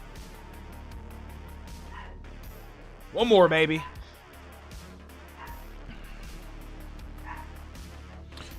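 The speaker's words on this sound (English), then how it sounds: "Why is my dog yarking?" A dog barks in a short, loud burst of several yaps midway through, rising over steady background sound and a person speaking quietly during a Warframe gaming session.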